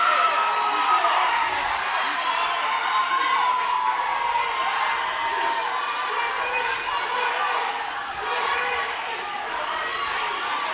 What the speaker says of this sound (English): The crowd gets into it